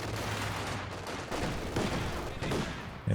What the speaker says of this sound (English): Grenadiers with the LMG.